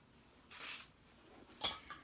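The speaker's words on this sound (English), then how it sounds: "So I'll spray it with a bit of your favorite hairspray." Hairspray is misted onto a section of hair for a bohemian braid, heard as a close, steady aerosol hiss of about a third of a second, followed by a shorter spray burst and a faint trailing puff.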